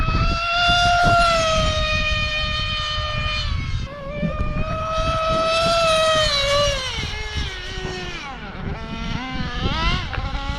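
A nitro-fuel Mugen RC buggy with an LRP .32 engine on 30% nitro screams at high RPM during a speed pass, a loud piercing whine that holds, dips, then falls and rises again as it passes close by.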